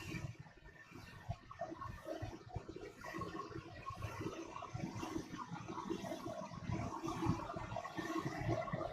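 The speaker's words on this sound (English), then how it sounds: "Yes, Doug, it's just my furnace." A home furnace runs in a cold house while water pipes gurgle, giving a steady low rumble with bubbling, irregular knocks that continue without a break.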